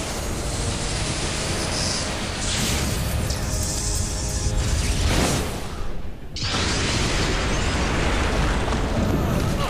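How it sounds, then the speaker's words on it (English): A sustained roaring explosion in the first-person shooter Infernal, Doom 3-style, with dense, loud rumbling noise filling several seconds, briefly dipping before the roar resumes. "That was kind of an uneventful explosion."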